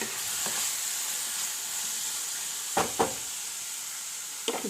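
Vegetables with tomato sautéing in a hot pan over a raised flame, giving a steady close sizzle with a few sharp stirring scrapes.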